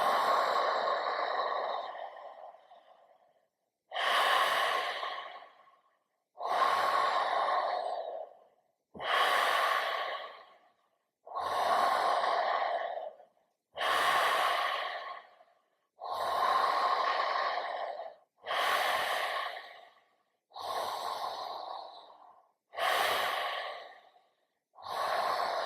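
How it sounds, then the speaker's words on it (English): Conscious connected breathing as a breathwork exercise, with about eleven deep breaths in a steady rhythm, each a loud close rush of air with short gaps between, with no talking. "And into the next 9 breaths."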